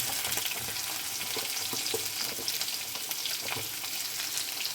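Steady crackling sizzle of onions, green chillies and curry leaves frying in hot oil, with a few soft stirring clicks; continuous and close, no voices.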